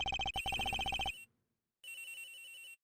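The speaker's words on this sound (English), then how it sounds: "Sounds like the phone's up to the..." A telephone rings in the Ace Attorney Investigations: Miles Edgeworth video game, loud and close, with a rapid trilling burst, a short pause, then a second ring.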